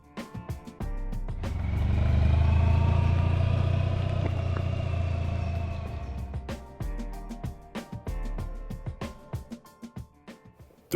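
A Honda ST1100 touring motorcycle, loaded with luggage, revs up and pulls away, its engine swelling to a loud, sustained roar over several seconds, then fading as it rides off, leaving scattered clatter and knocks behind.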